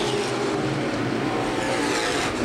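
Loud, continuous roar of street stock cars racing at speed at Winchester Speedway, engines droning close by with no break for the whole moment.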